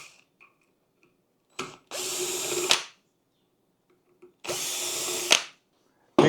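A power drill backs screws out of a Viossn 62-inch outdoor ceiling fan's light fitting, two bursts of about a second each whirring close by, separated by near silence and small clicks.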